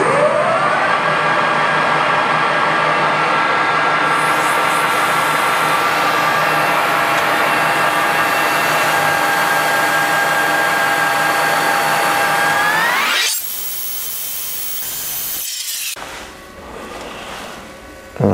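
A machine tool cuts a 3 mm pass in metal, a loud steady whine with layered tones that runs for about thirteen seconds, then sweeps sharply upward and cuts off into quieter workshop sounds.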